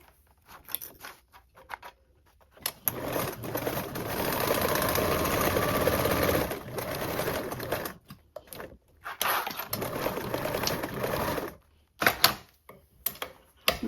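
A sewing machine basting a seam on a toiletry bag with a 1/8 inch allowance, running in steady whirring bursts of several seconds separated by short pauses and clicks, close and fairly loud.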